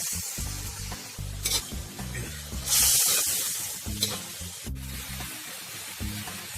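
Fish frying in a pan over a village-style outdoor fire for a vegetable fish masala, giving a steady close sizzle with stirring scrapes and a brief louder hiss midway, with no talk.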